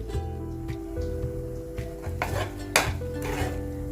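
Pumpkin dough for gharge being stirred in a pan, the spoon scraping and clinking against the metal in irregular strokes, close and fairly quiet with a steady low hum beneath.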